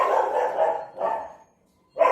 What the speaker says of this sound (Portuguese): Minha cachorrinha que tá latindo.